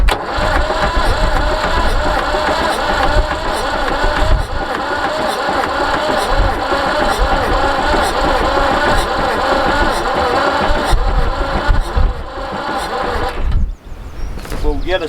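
Massey Ferguson 244 tractor engine running rough, a loud, close, uneven rumbling idle with a rhythmic knock that dips briefly near the end, with voices talking over it.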